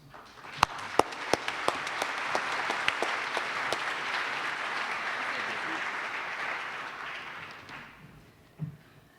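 Audience applause at a Better Business Bureau Torch Awards for Ethics ceremony, a full, sustained roar of clapping with a few sharp near claps at the start, tapering off toward the end.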